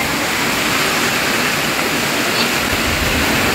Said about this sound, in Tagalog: pagkatapos lagyan natin ng kinakulong tubig. I-blast natin siya.